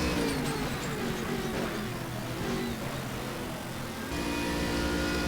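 Racing car engines in the Stock Car Extreme game at the Red Bull Ring, GT3 class, roar continuously and loudly with steady revving and a brief shift in pitch near the end.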